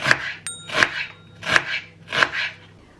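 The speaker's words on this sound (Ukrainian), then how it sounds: "Нарізаю дві цибулі і моркву" Four evenly spaced knife chops slicing onions into half-rings on a cutting board, crisp and close, with a brief metallic tick between the first two.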